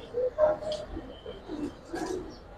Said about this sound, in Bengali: ওস্তাদ একটা কবুতর, লাল চোখের